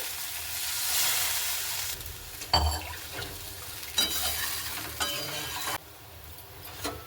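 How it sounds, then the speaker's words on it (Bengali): Water poured into a pan of sautéed grated potato for a soybean curry, with a sharp hiss and sizzle bursting up over the quieter frying, then settling into bubbling and stirring sounds. "এবার আমি দিয়ে দিচ্ছি জল"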